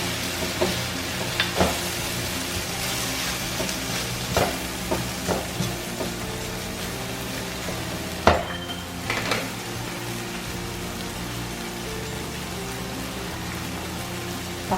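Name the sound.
pork stir-frying in a pan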